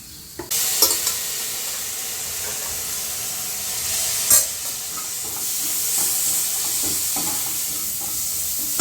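Kolhapuri masala with Kashmiri red chilli sizzling and frying in a hot pan as it is stirred, a steady close hiss with occasional scraping clinks, no voices.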